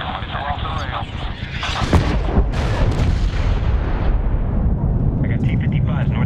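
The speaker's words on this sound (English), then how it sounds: "Missile off the rail" In the Medal of Honor 2010 video game, loud booming blasts and a rushing roar fill the scene as a missile launches and bombs explode, with radio-style voices speaking over the din.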